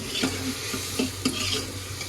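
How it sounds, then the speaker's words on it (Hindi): Onions and chillies frying with spices in a home kitchen pan, a steady soft sizzle with a few light stirring scrapes and taps spaced through it, close and fairly quiet, no talk. "प्याज और मिर्ची डाल दी है मम्मी ने। अब ब्राउन होएंगे"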